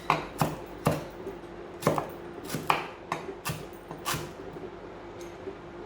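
A big chef's knife chopping vegetables on a board, about a dozen sharp, close knocks in an uneven rhythm, each with a short bright edge, heard alone without any talking.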